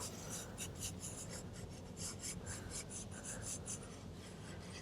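Steady scratchy rasp of a pencil moving across paper, with rhythmic short strokes repeating throughout, close and fairly quiet.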